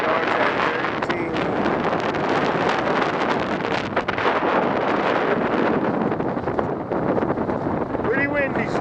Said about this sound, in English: Pretty windy still.